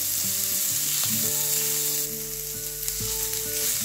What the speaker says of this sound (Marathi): यांना आपण भाजून घेऊ। यावर आपल्याला थोडंसं तेल घालायचं आहे, म्हणजे कांदा छान परतला जातो, भाजला जातो।